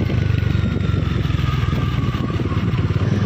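A motorcycle rolls into an India–Bangladesh border integrated check post, its engine putting out a steady, close, pulsing idle-to-cruise throb with no talk.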